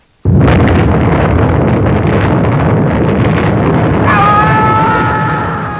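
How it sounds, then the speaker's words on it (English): A bomb explodes in the 1974 science-fiction film Dark Star: a sudden, loud blast bursts in and rolls on as a sustained, roaring rumble that slowly fades, with a tonal whine entering near the end. "So the bomb explodes"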